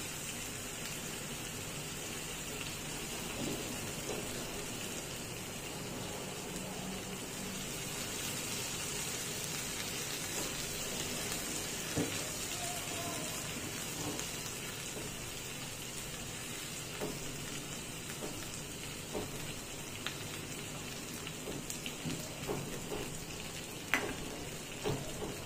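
Taro root (arbi) sizzles steadily in a pan, a dense, even crackle like light rain that persists throughout, with occasional faint pops and stirring clicks and no talking.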